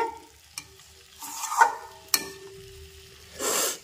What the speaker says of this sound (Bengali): এই দেখো মশলাটা সুন্দরভাবে কষা হয়ে গেছে